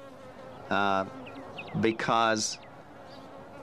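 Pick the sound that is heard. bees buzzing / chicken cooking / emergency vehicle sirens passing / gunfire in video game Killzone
bees buzzing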